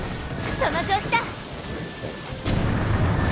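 Lightning and a thunderstorm rage around Divine Beast Vah Naboris in a Zelda video game. Steady rain hiss and low rumbling fill the scene, with brief chirpy game sounds early and a louder crash of noise toward the end.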